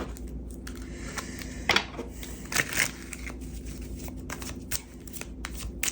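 Tarot cards are shuffled by hand in a quiet room, giving repeated soft riffling and slapping bursts with a few louder snaps, close and alone without talk.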